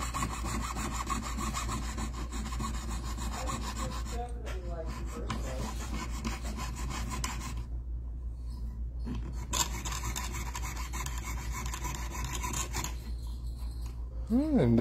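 A saw blade cuts through a metal die in long, steady, rasping strokes that run continuously and close up, with a few brief pauses and no talk.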